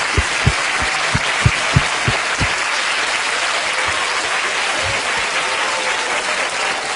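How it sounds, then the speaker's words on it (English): An audience at a university lecture hall in Hong Kong breaks into loud, sustained applause, many hands clapping densely and evenly for about seven seconds, with a few sharper individual claps standing out at the start. "Give yourself a round of applause."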